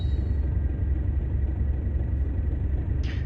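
A diesel freight locomotive engine in a train simulator game rumbles in a deep, steady drone close by, building slightly without any talking.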